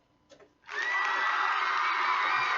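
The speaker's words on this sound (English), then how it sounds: "Hit my applause button. Hit it." A canned applause sound effect from a button bursts in after a brief quiet moment: loud, sustained crowd cheering and whooping that carries steadily to the end.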